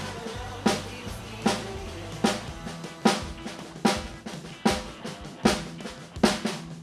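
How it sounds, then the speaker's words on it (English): A drummer plays steady sixteenth notes on the snare with the hands only, accenting the upbeats, producing a tight, evenly spaced stream of strokes with louder cracking hits at regular intervals, alone and close. "what you want to do is add an accent on the upbeats, on the and of the 16th note subdivision"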